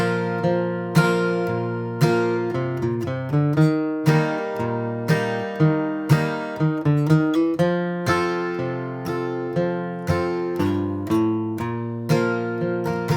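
Acoustic guitar picking a steady bluegrass rhythm, with walking bass-note runs linking the chords, played clearly and alone.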